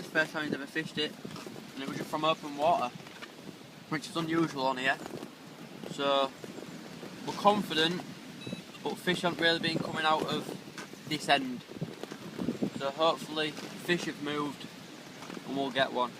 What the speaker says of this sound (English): I'll apologise about the wind. You can't hear us, it is extremely windy.